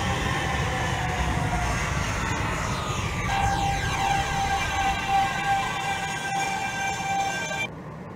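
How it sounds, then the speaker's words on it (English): New York City subway N train in the OpenBVE train simulator rumbles along steadily with a loud, constant roar, a rising whine of motors layering on partway through before the noise dips near the end. "This is a Brooklyn-bound N Express train."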